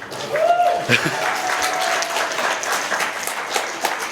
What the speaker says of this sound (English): He needs claps.